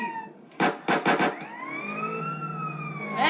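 A police siren in the video game GTA San Andreas: a few short loud bursts, then a steady wailing tone that sweeps slowly up and down, close and clear with no talking.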